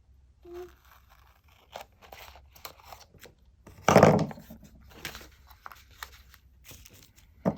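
Scissors cutting planner paper with a few sharp snips and one louder crunching cut near the middle, then scattered small paper rustles and crinkles, close and fairly quiet with no speech.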